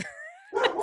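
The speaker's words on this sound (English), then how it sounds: "that's my dog." A pet dog at home gives a short, high whining yelp that slides upward, followed by a brief louder bark, close and alone.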